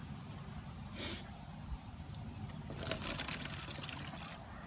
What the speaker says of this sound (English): So you can slowly pour that into your bottle.